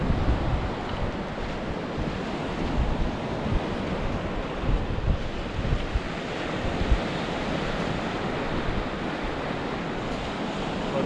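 Sea waves break steadily on a beach at Prestatyn in North Wales, a loud continuous wash of surf with gusts of wind buffeting the microphone throughout.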